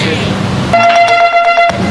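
Mobile phone keypad being dialed, a quick series of about six bright tonal beeps with short even gaps, clear and close, following a stretch of background noise.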